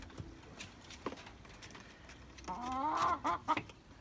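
Chickens in a coop, a short burst of clucking near the end after scattered scuffs and taps, close and fairly faint.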